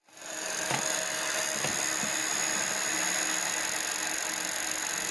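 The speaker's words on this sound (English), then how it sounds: "Then we can hit the switch for the fans, which activates the distribution board, which provides power to all 6 fans." Six cooling fans on a Peltier test rig spin up from silence into a steady, even whir with a high tonal whine, running continuously and close, with a few faint clicks early on and no voices.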